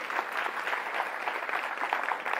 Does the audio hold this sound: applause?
yes